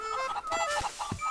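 A chicken in the Switch game Zelda Link's Awakening clucks in a short run of choppy calls over light game music.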